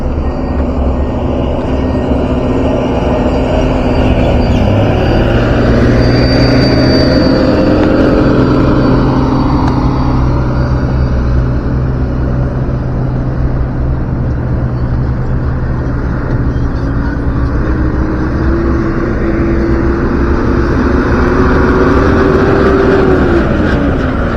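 Trucks and heavy equipment work at an underpass on the Padang–Sicincin toll road construction site, a loud continuous engine rumble with shifting drones rising and falling as machines move nearby.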